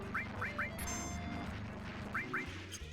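Chocobo bird from Final Fantasy 7 squawking during a battle, several short quacking cries in quick pairs over dense game music and battle effects, with a crash partway through.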